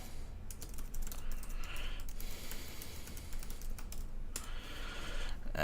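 Fingers tap login details on a computer keyboard in quick, uneven bursts of soft key clicks, close by and fairly quiet, with short pauses between runs of keystrokes.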